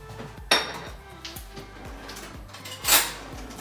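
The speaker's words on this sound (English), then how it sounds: "I like to mix it all together with a fork, and that continues to aerate the flour" A fork stirs dry muffin ingredients in a bowl, giving light scraping and clinking taps in an uneven rhythm, close up, with a couple of brighter knocks against the bowl and no talking.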